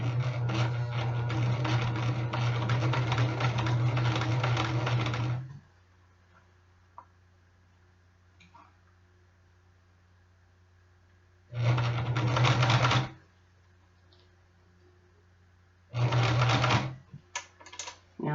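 A sewing machine with a size 20 needle stitches through the thick leather of a Harley jacket sleeve in three bursts: one long run, then two shorter ones separated by quiet pauses, loud and close.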